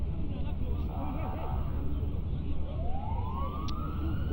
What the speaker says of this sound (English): He's been taken to the hospital in the ambulance.